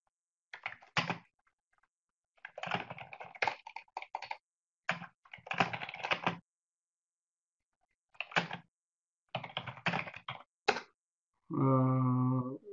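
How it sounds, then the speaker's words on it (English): Bursts of computer keyboard typing, rapid clicky keystrokes in short clusters separated by pauses, fairly close and quiet, ending with a brief tonal hum. "pardon the typing sound"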